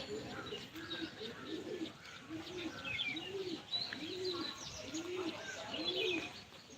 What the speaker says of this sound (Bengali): পায়রা চারটে একসাথে আস্তে আস্তে হাইটে চলে যাচ্ছে